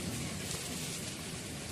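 Steady unseasonal rain pours down in a heavy rainstorm over mango orchards and wheat fields, a dense continuous hiss close by with no breaks and no voices.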